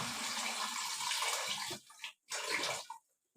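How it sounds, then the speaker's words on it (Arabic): Water pours steadily into a pot with a rushing splash, then cuts off and resumes briefly before stopping; close and fairly loud, with no talking. "احط ميه"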